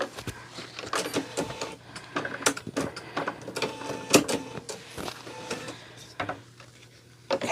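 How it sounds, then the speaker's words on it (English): An embroidery hoop goes onto a Bernina B 790 Pro sewing machine with a close series of sharp plastic clicks and knocks, irregular and fairly quiet, over a faint steady hum. "I am going to go ahead and put my hoop in here."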